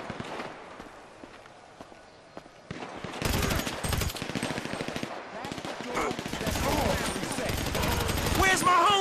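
Bursts of automatic and single-shot gunfire in GTA 5, rattling loud and close through most of the stretch, with running footsteps and a voice calling out between volleys.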